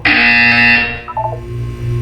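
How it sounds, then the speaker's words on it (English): Buzzer in the video game Portal 2, a loud harsh electronic tone held for under a second, then fading into lower shifting synthetic tones and a droning hum. "When you hear the buzzer, look up at the ceiling."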